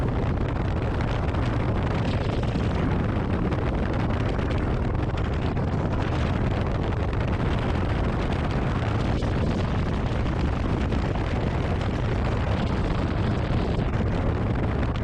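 A Harley-Davidson Street Glide rides along Route 66 in Arizona, its engine drone buried in a constant, loud roar of wind rushing over the microphone, steady and unbroken for the whole stretch.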